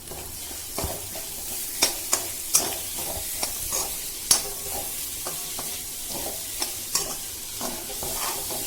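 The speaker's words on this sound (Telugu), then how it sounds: "రొయ్యల వేపిన బాండీలోనే ఇంకాస్త నూనెను వేసుకుని ఉల్లిపాయల్ని వేపుకోవాలి." Onions fry in oil in a pan already used for prawns, a constant bright sizzle with occasional sharp scrapes and taps of a spoon as they are stirred.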